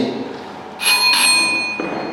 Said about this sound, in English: And the final bell will be given at the end of 4 minutes like this.